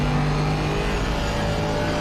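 Steady, loud engine drone of a race car lapping the Imola circuit during a 90-minute endurance race, held at a constant pitch and close by throughout.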